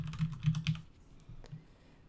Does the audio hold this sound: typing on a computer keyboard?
yes